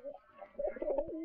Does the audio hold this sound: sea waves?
no